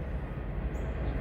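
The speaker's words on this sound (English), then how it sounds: "okay, that's the train in the background." A train rumbles past in the background at night, a steady, dense low roar with a faint high hiss and no talking.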